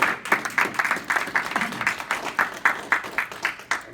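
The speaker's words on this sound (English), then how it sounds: "all the fire department members should have a round of applause" A small group claps steadily for about four seconds, brisk and fairly close, without cheering or talk.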